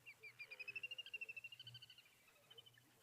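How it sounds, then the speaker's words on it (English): At a bush waterhole, a single bird gives a faint, distant call of rapid, even trilling pulses that swell and then fade, with a couple of stray notes at the end. "I hear some bird calls already"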